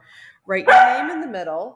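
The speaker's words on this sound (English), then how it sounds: "that's my dog." A dog barks and whimpers close by in a brief outburst, overlapping a person speaking instructions indoors.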